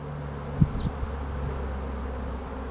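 A steady low hum of honeybees buzzing around the entrance of a hive, with a brief closer knock or buzz near the start.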